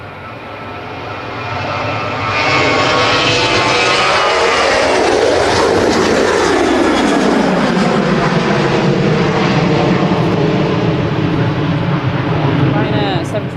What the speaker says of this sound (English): Ryanair 737 to our favourite destination of Arrecife, which is Lanzarote